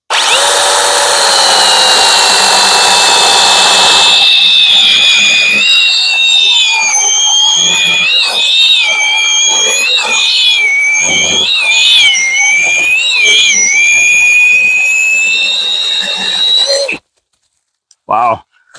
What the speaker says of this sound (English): We're gonna do some cuts on there and see how fast we can go through.